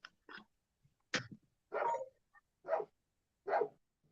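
A female dog barks sharply while guarding her food, several distinct close barks and growly yips spaced irregularly with short silences between.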